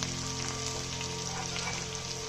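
Chopped onions sizzling in hot oil in a pan with cinnamon and curry leaves for a drumstick prawn gravy, a soft, steady frying hiss throughout with no talking.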